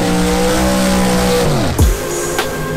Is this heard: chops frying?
no